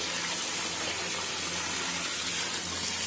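An open kitchen tap gushes without pause over spinach and mustard greens being rinsed clean, a constant near splashing rush with no voices.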